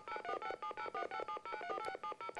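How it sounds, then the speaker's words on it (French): A telephone number being dialed sends a rapid run of about eleven DTMF tone beeps, each short and evenly spaced with brief gaps, clear and fairly close with no talking. "qui est-ce qui est en train de composer le numéro de téléphone?"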